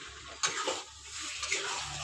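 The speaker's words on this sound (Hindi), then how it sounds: "और इसमें हम पानी डाल देंगे" Water is poured into chicken cooking in a pan, giving a sudden splash and then a steady hissing, bubbling wash of sound for about two seconds, close and moderately loud with no talking.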